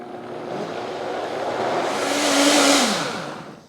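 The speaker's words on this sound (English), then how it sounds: "I'm going to blend this at high speed until the batter foams at the top" A blender whirs steadily at high speed, its motor pitch rising and dropping slightly as it churns thick clafoutis batter until it foams, for a few seconds.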